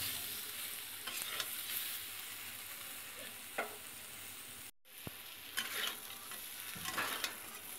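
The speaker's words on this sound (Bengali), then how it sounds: "দেখো, এঁচোড়টা বেশ লাল লাল করে ভেজে নিচ্ছি" Young jackfruit pieces fry in a modest amount of oil, with a continuous close sizzle and spatula scrapes and stirs at intervals, one brief dropout midway, no voices.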